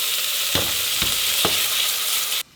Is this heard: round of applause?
no